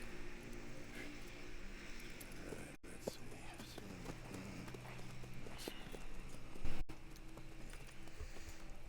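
Horse hooves clip-clop at a walk in the video game Red Dead Redemption 2, a soft, steady sequence of hoof falls under quiet background game ambience and faint whispery voices.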